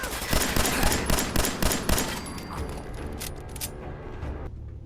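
Rapid automatic gunfire in the video game Fallout 4, a dense burst of sharp repeated shots and mechanical clatter that thins out and trails off toward the end.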